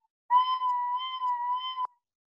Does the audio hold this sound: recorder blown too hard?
yes